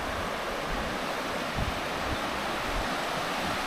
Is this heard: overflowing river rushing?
yes